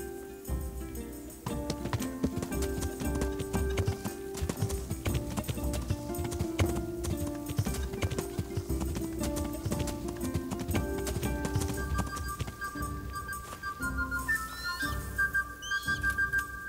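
Horse hooves clip-clop steadily in the Kingdom Come Deliverance video game, a regular close rhythm running throughout with game music playing alongside.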